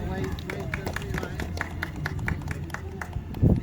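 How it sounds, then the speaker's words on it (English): Applause from a zoo audience after a sea lion training demonstration at Blackpool Zoo, a steady patter of many hands at moderate distance, mixed with crowd murmur and a presenter's voice. "a huge round of applause as well"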